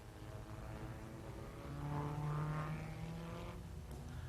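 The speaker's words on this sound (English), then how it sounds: "here's Englishman Roy Salvadori in his Formula 2 Cooper Climax" Formula 2 Cooper Climax race car running on the Nürburgring circuit during the German Grand Prix, its engine note droning steadily and swelling louder mid-clip as it nears, with no talk.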